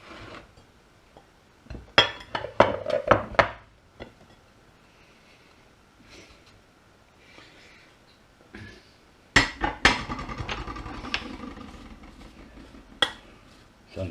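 Ceramic dishes clink and clatter as a bigger baking dish is pulled out and handled while making a pork and apple pie in a home kitchen, with two bursts of close knocks and rattles separated by a quiet pause.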